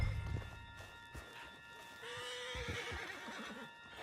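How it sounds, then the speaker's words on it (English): A horse in the video game Red Dead Redemption whinnies and snorts, then hooves clatter in a quick galloping rhythm, fairly faint and close against quiet background tones. "Put Strauss on the back of John's horse, and let's get out of here."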